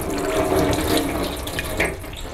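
Water from a kitchen tap splashes loudly and close while a scraped, cleaned beef intestine casing is rinsed under the stream for sausage making, the flow gurgling and shifting as the casing is handled, easing slightly near the end.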